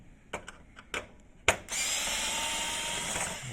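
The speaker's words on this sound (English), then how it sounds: "Then we will remove two screws here, one here and one" A power screwdriver removes screws from an HP Smart Tank printer's star wheel assembly. A few soft clicks and taps come first, then a sharp knock and a steady, close mechanical whir that runs to the end.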